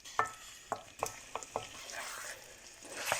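Kala bhuna beef frying slowly in a pan over low gas, with a soft continuous sizzle broken by several sharp scrapes and clacks of a spatula stirring the meat, close up and with no talking.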